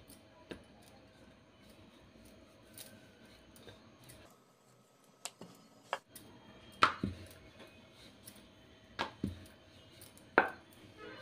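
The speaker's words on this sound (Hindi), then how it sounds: "तो अब इसे स्क्वायर शेप पे काट लेंगे" A knife cuts rolled potato puff pastry dough into squares on a rolling board, making sparse, sharp tapping strikes at irregular intervals over a quiet background.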